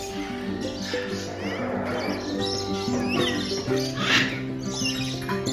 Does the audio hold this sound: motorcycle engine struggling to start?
no